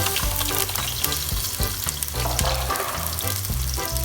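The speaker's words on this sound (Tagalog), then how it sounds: "So igisa lang natin yung sibuyas at bawang natin" Onion and garlic sauté in hot oil for beef kare-kare, giving a loud, steady, close sizzle throughout, with low musical tones underneath.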